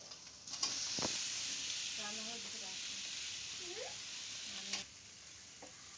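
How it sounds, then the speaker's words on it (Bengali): Fried soybean chunks and potato frying in a cooked ginger, garlic and onion spice paste, a faint steady sizzle with stirring clinks and scrapes, soft voices in the background. "এরপরে ভাজা সোয়াবিন আর আলুটা দিয়ে দেবো"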